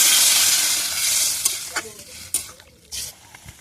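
An onion curry sizzles in a pan while a utensil stirs it, with a bright frying hiss fading over time and several sharp scraping strokes against the pan.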